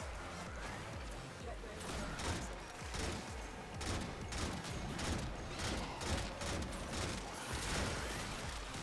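Gunfire in the shooter Warframe, dense rapid bursts of shots crackling through a noisy battle mix, continuous and moderately loud with a voice talking over it.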